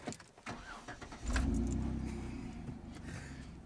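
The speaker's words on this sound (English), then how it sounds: "depress the clutch and start the car." A Jeep engine is started during a driving lesson: keys jingle, then the engine cranks and catches about midway, settling into a loud, steady rumble close by.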